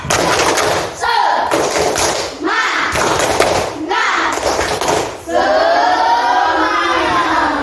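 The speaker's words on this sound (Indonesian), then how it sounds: "kita akan tepuk semangat dulu biar kalian semangat untuk belajarnya" Schoolchildren in an Indonesian classroom perform a 'tepuk semangat' clapping chant, loud bursts of rhythmic claps and thumps in several groups broken by short pauses, with children's voices chanting along.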